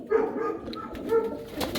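Pigeons coo on a rooftop in a Pakistani village, two soft rolling coos close by with faint background chatter of birds and no speech.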